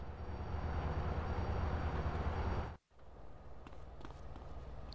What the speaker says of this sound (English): Follow that train.